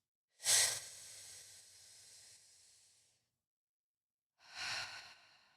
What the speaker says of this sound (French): On reste concentré sur notre respiration.